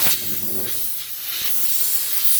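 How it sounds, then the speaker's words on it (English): A compressed-air tool blows air while a 1993 Ford XG ex-Victoria Police divisional van is being worked on, giving a loud continuous close hiss that runs the whole time with no talking. "Just getting something like a good air compressor tool."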